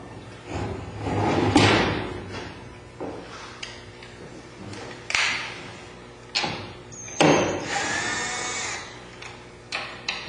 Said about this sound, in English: So we're going to just flip this whole drum sander right over